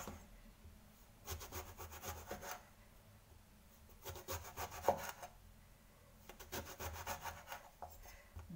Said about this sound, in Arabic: غادي نحيد لي هاد الراس هذا، غادي نقطع دوائر